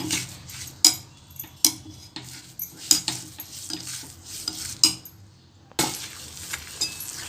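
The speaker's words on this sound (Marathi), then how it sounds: "हलवत चांगलं भाजून घ्यायचं." Gram flour roasting in ghee in a pan for besan laddu, stirred with a spoon that clinks and scrapes against the metal in sharp, irregular strokes over a soft background hiss.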